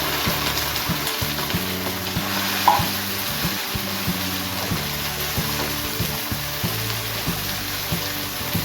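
Okra dropped into a pan of hot oil with mustard and cumin seeds, a steady close sizzle and crackle of frying with occasional stirring scrapes and no talk.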